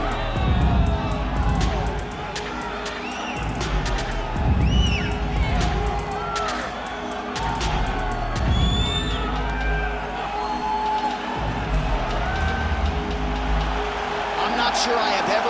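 An arena crowd at UFC Fight Night, Josh Emmett vs Lerone Murphy, in the Bell Centre in Montreal roars and cheers in waves, loud whoops rising over a constant babble while a commentator talks over it.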